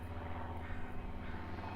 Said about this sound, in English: No, it's a Cessna.